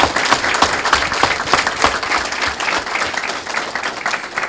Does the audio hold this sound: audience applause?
yes